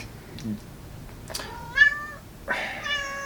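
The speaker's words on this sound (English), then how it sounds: "she's my vocal kitty. She always says hi." An indoor house cat gives a few short, close meows in succession, loud and clear against a quiet room.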